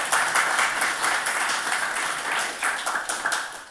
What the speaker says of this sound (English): Round of applause for the Go team.